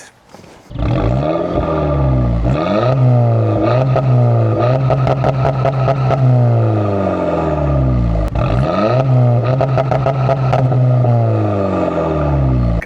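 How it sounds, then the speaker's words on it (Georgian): An Audi engine cranks and fires up in a quiet setting, then runs loud and close with repeated revving swells and a throaty idle between them. "კარგი და მადი საღმძვრელი ხმა აქვს აი ამ მანქანას"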